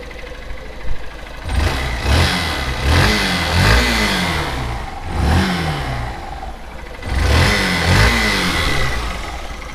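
Close Honda CB125F motorcycle engine, with freshly adjusted valves and almost no valve noise, blips the throttle in repeated revs, each rising and falling back to a steady idle between them, no voices.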